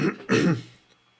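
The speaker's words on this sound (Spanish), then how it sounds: "Yo ando un poco de tos" Two quick coughs or throat-clearing bursts close up, the second one stronger, trailing off into quiet.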